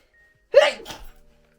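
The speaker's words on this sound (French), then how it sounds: "j'ai éternué" A single sharp sneeze bursts out close by from a quiet room, followed by a brief softer exhale, then silence.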